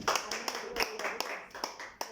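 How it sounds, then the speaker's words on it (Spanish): Church congregation clapping during a Spanish-language worship service, a short burst of scattered, uneven handclaps from a modest crowd, fairly close and lasting only a couple of seconds. "Démosle un aplauso."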